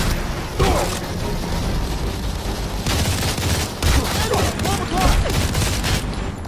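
Rapid video game gunfire from Modern Combat 4: Zero Hour, with dense bursts of automatic shots and booms that run continuously at fairly even loudness.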